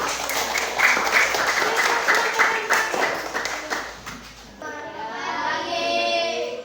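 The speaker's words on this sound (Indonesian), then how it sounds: "Tepuk tangan untuk kelompok." A fifth-grade class claps for a student group, a burst of steady, close clapping that thins out partway through, followed by a softer stretch of room noise and children's voices.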